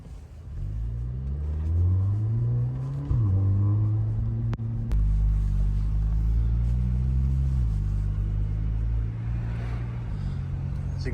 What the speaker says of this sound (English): there's so much backed up traffic